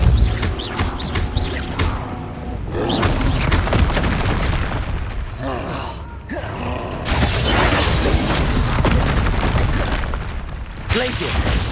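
Spell explosions in the video game Hogwarts Legacy during combat: loud, dense booms and crashing bursts that overlap almost continuously, with game voices mixed into the heavy, rumbling din.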